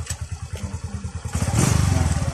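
A manual-clutch motorcycle engine thumps at a steady idle, then revs up louder and faster while the clutch is held, a close, rhythmic pulsing chug.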